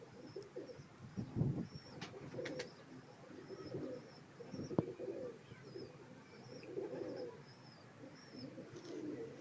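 Pigeons kept by a hobbyist coo in repeated low, throaty phrases, fairly close but soft, with a louder burst near the start and a few sharp clicks and faint chirps scattered among the calls.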